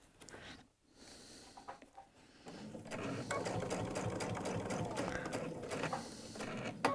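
A sewing machine stitches the border of a Tamarack jacket, a soft, steady rapid whirring hum close by that starts after a brief pause and runs quietly to the end.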